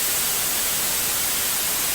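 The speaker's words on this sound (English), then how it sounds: "So here's white noise." Steady white noise produced in the Drambo music app, a flat continuous hiss at moderate level with no other sounds.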